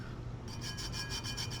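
A glitter tumbler sealed with Mod Podge is rubbed by hand, giving a soft, steady, close-up friction hiss with faint repeated strokes and no talking.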